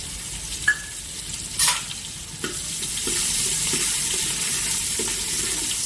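Curry leaves and chopped spring onion fry in a pan after turmeric goes in, giving a steady close sizzle with a few sharp clanks of a spoon early on and the hiss swelling louder halfway through.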